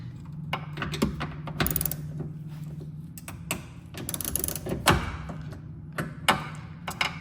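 A socket ratchet clicks while loosening the side mirror bolts on a 2014-2020 Lexus IS, giving bursts of quick ratcheting clicks with some clunks and knocks between them, close and fairly quiet with no talking.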